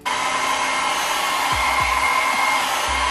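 Hair dryer blowing steadily on a wig's melt band, a loud continuous whoosh held throughout with low motor hum and a few brief dips in airflow near the end.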